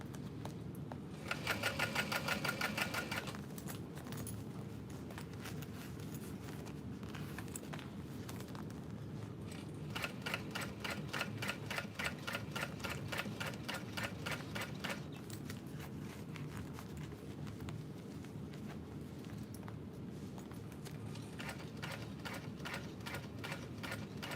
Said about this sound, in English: Okay, I'm back stitching.